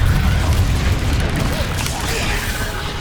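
A Bombarda spell blast in Hogwarts Legacy, a loud sustained low boom and rumble with dense crackling debris filling the whole short stretch, close and heavy, with no distinct voice over it.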